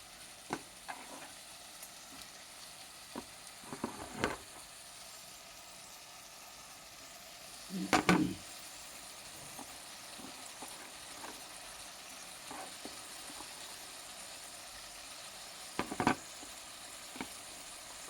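Tomato pieces frying in a pan for dal khichdi, a faint steady sizzle with occasional clinks and scrapes of stirring, quiet and close, with no talking.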